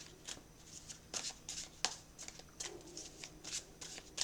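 Playing cards are shuffled by hand in quick, soft riffling bursts, repeated several times in a faint, close, papery flutter with no talking.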